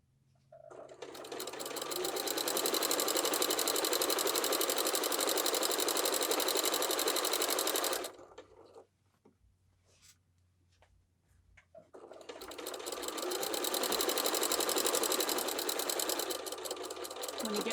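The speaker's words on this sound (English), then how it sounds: "we're just sewing in the crease" A sewing machine stitches the crease of a waist apron in two steady runs, with a quiet pause of small handling noises between them.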